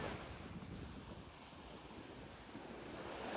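Sea waves wash onto a beach in a broad, steady roar mixed with wind buffeting the microphone, continuous with no distinct breaks.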